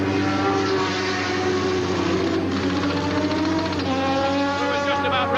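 A Ford Probe race car with a 4-cylinder 750 bhp engine leaves a pit stop at Laguna Seca, its engine screaming loudly and continuously as it revs and pulls away, with a commentator talking over it.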